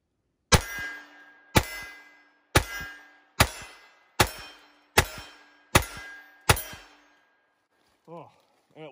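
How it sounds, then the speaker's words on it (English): Walther PP .32 ACP pistol fired one-handed through its last magazine, giving seven sharp, evenly spaced shots with ringing decay, loud and close, followed by a faint voice at the end. "So let's go ahead and put this last mag through it. We're gonna go ahead and shoot one-handed like they originally trained to."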